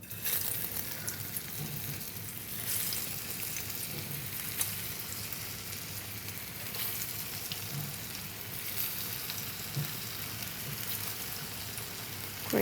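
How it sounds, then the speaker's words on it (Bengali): Jackfruit kebabs frying in hot oil over a low flame give a faint, steady crackling sizzle with scattered small pops throughout, no talking. "তেলটাও বেশ গরম হয়ে গেছে। এবার একে একে কাবাবগুলো দিয়ে দেব।"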